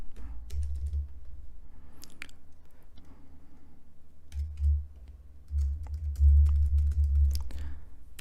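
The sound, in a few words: computer keyboard typing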